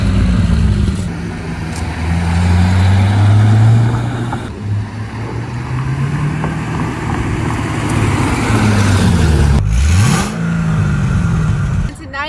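A black 2010 Chevrolet Corvette Z06 3LZ with its 505-horsepower engine revs loudly and close by, the pitch climbing and dropping through several sweeps before a final sharp blip.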